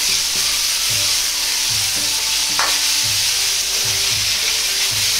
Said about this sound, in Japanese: 強火でタケノコの水分を飛ばすようにじっくりと炒めます。